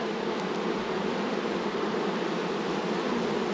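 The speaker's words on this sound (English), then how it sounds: "there are so many bees in here" Honeybees drone inside an open beehive in a thick, constant buzz close at hand. The hum holds steady and fills the whole stretch.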